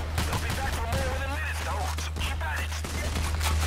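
Gunfire crackles through a firefight in the video game Payday: The Heist, scattered shots sitting under excited talk from several players over a steady low hum.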